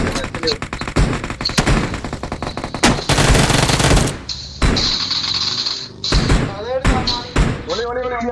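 Gunfire in a battle royale video game: rapid bursts and single loud shots crackle close by in a busy firefight, with impacts and bangs, while players talk over it.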